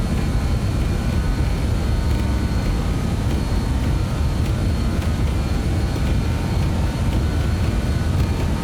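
Jet engines of a BAE 146-300 cargo airliner roar steadily through the takeoff roll in Microsoft Flight Simulator 2024, a loud, even, broadband thrust with no break and no voices.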